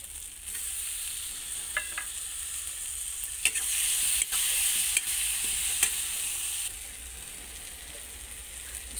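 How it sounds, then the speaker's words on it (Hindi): Chopped tomatoes hit fried masala paste in a pan for an egg and potato curry, a loud hissing sizzle that swells, then eases, with a few clinks and scrapes of stirring and no voices. "मसाले भून के रेडी हैं, अभी इसमें 2 कटे हुए टमाटर डालेंगे"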